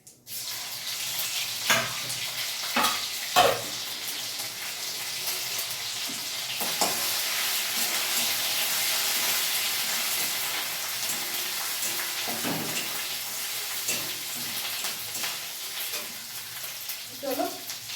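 Meat sizzles and fries in a pan as it is stirred, a steady crackling hiss broken by a few scraping stirs, close and moderately quiet.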